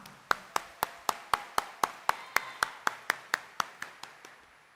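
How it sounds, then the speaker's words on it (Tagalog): A Christmas Eve Mass congregation claps in a steady, even rhythm, about seventeen crisp claps in unison, moderately faint and without talk. "At bigyan natin lalo siya ng mas malakas na palakpak."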